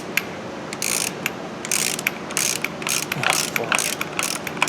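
Socket wrench with a deep socket backing a bolt out of a motorcycle engine case on an old-school GS pro street bike, loud close bursts of rapid ratcheting clicks in repeated strokes with short gaps.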